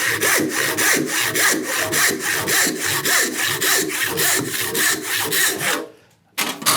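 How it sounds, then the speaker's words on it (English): An ordinary handsaw rips along a line through a wooden board in steady, close, loud back-and-forth strokes, about two per second, pausing briefly near the end before resuming. "So I just rip down here as near as I can to the line, work down. So I'm just using an ordinary handsaw."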